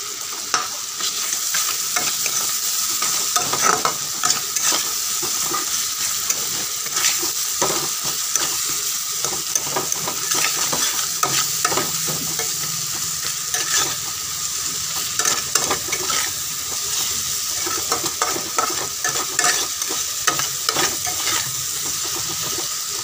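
Masala being stir-fried for a village-style rupchanda fish curry, a steady sizzle with repeated scraping strokes of a spoon against the pan, continuous and close with no talking.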